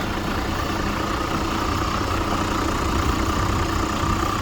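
A Toyota Land Cruiser 100 Series fitted with 35-inch tyres idles with its engine running, producing a steady, even rumble close by that holds unchanged throughout with no talk.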